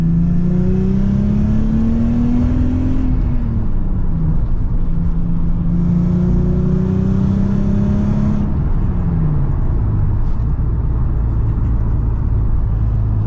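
A Stillen Z car fitted with a Stillen exhaust revs loudly and close, its engine note climbing and holding in two long sustained pulls before dropping back to a rough idle.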